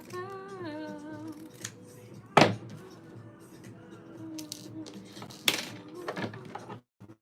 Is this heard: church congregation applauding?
no